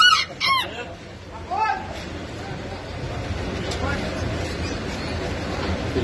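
Rooster at the Zafaraniya bird market crowing near the start, with a second short crow around a second and a half in, followed by steady crowd noise and talk.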